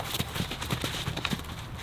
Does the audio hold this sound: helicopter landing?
no